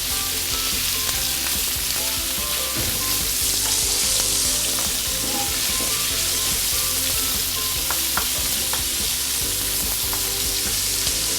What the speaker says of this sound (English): you want to saute your minced meat a bit longer